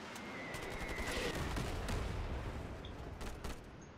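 A SCAR-H rifle firing in the online shooter Ironsight at a fairly slow rate: a series of distinct shots over a steady, dense wash of battle noise, heard from a moderate distance.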